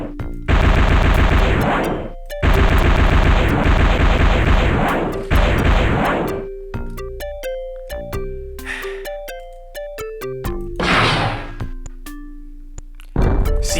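Missile and gunfire in combat from the Inca 2 video game: two long dense bursts of rapid firing, then scattered electronic beeps, blasts and tonal game effects, with no talking.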